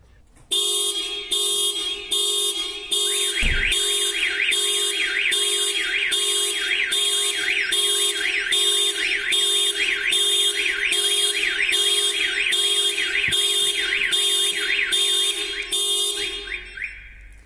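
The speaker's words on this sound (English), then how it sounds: "the system's gone really mad. Factory fitted alarm, aftermarket alarm, two-way pager, phone, giving you a full alert" Factory and aftermarket alarms on a Toyota Prius blare together after the door lock is picked, a loud repeating electronic siren pulsing in a steady cycle of about one beat per second for the whole stretch.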